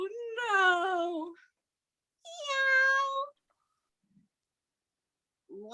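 A person imitates a cat with two drawn-out, whiny meows in a row, separated by a brief pause, close and fairly loud, with a short vocal sound starting at the end.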